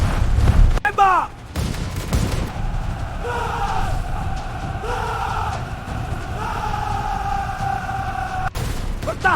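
Gunfire in a staged battle between local fighters and Dutch colonial troops in Banjar: a loud opening blast and crackling shots, then a rumbling din with rising whistle-like tones and further bangs near the end.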